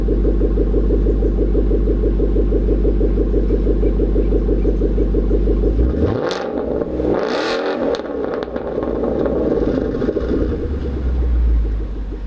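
A Ford Mustang V8 engine with catback exhaust mufflers idles with a deep, loping rumble, then blips the throttle in a couple of sharp revs before settling back to idle; loud and close.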